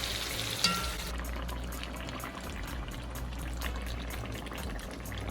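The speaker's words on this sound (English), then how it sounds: "we watch the turkey bubble in its own juices" Marinated turkey pieces for Jamaican curry sizzle and bubble steadily in a pot, a dense continuous crackle at close range with a light clink early on.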